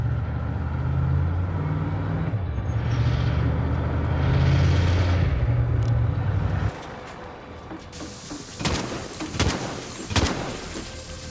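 Military vehicle rolling along on bare rims with no tires in Call of Duty: Modern Warfare (2019), a steady low engine rumble for several seconds that cuts off, followed by sharp scattered impacts and clanks.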